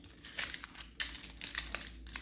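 Plastic packaging crinkling as it is opened by hand, a quiet, close series of irregular crackling bursts and rustles without speech.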